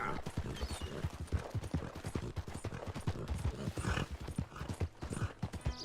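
Fast, rhythmic hoofbeats of galloping horses in Red Dead Redemption 2, a dense clattering stream of clip-clops close by, like game sound effects.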